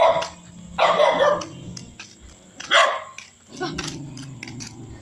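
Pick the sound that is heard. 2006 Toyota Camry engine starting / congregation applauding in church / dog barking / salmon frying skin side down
dog barking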